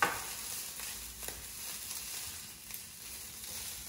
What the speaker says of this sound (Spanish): Vamos a dejarlo freír unos minutos.